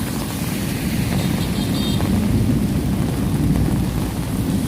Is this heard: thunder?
yes